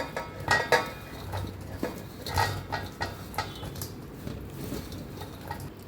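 Raw mango pieces are stirred for pickle in a bowl, spoon clinking and scraping against the sides in uneven bursts, with soft wet shuffling between the sharper knocks, close and unaccompanied by talk.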